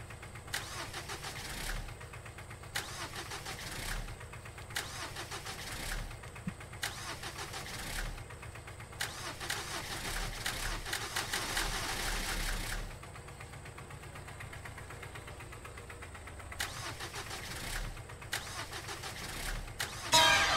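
A car engine in a horror video game cranks over and over without catching. Repeated grinding starter bursts are separated by short pauses, and one longer sputtering attempt comes in the middle. No one speaks.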